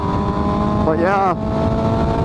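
2018 Suzuki GSX-S750 motorcycle engine accelerating on the road, a loud steady drone with a brief rising whine as it pulls, heavy wind rush throughout.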